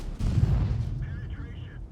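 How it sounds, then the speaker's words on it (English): A tank cannon fires in World of Tanks at a Progetto 46, a heavy low boom that rolls and rumbles for over a second before fading, with someone talking over it. "Tracking shot into the Progetto"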